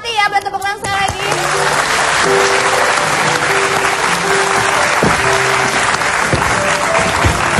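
A studio audience at the Indonesian TV show Hitam Putih bursts into sustained, dense applause that holds loud and steady for several seconds after a short voice at the start.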